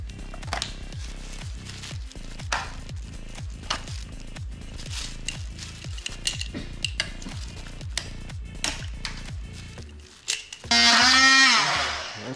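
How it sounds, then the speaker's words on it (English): A multi-tool cutting through hard plastic on a Daihatsu Hijet transmission control computer housing, a rapid regular rasping stutter of repeated strokes, loud and close, ending in a sharp whining screech. "Look how that hard plastic melts on my multi-tool"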